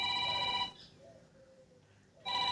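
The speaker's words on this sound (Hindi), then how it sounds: "इतनी रात में किसका फोन से देखिए" A telephone rings late at night during a Haryanvi drama. Two loud electronic ring bursts are split by a quiet gap.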